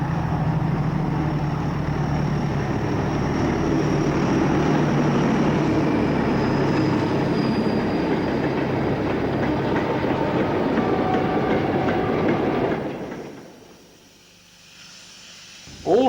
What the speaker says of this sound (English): D9516 and D9523 powered through Wansford on a short freight at the Enthusiast Weekend